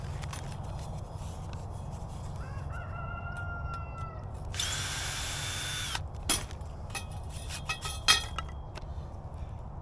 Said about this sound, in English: Luckily, they're just screwed on. And I could unscrew them